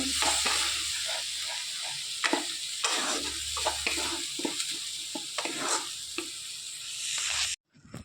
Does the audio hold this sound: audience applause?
no